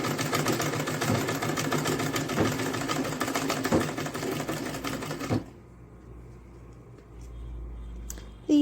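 Sewing machine stitching Ankara print fabric for a purse, a steady close mechanical whirr and rapid needle clatter running for about five seconds before stopping, leaving faint room noise.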